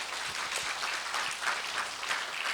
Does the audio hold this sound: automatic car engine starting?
no